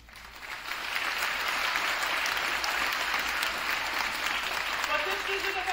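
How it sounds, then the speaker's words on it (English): Graduating class and audience applaud at a 2022 high school graduation ceremony in Hallsville; clapping builds within the first second into a full, sustained ovation, with faint voices rising briefly near the end. "So give yourselves a nice round of applause."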